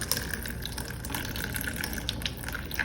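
Water wrung by hand from grated zucchini into a strainer, a continuous close splashing trickle with no break, fairly loud and steady throughout and no voices.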